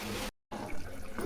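Tamarind water splashes and trickles steadily into a pot of fenugreek curry, with a brief silent gap near the start before the pouring resumes, close by.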